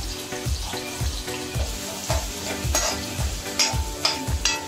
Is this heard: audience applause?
no